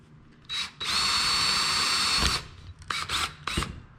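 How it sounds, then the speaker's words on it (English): A power drill bores a rivet hole in a Corvair van wing window, running in one sustained whine of nearly two seconds, then short bursts as the trigger is pulsed, all close up. "so I drilled that hole out"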